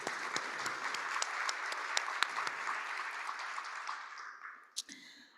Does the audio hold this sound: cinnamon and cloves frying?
no